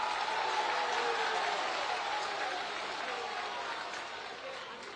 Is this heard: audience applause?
yes